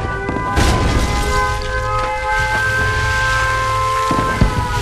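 A nuclear missile strike in the Red Alert 2 video game lands as a heavy, sustained rumbling blast with a deep low roar and crackling debris over steady game tones, with a sharper thump near the end.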